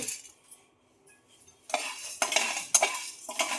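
Chana dal is tipped into a pan with roasted rice and stirred. After a near-silent start come scraping spoon-on-metal strokes and light clinks of pan and utensil, close and moderately loud, with no talk.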